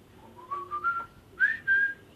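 Someone whistles a short melody on a film set: a few clear sustained notes, a pause, then two more rising tones, close and fairly quiet with no talk.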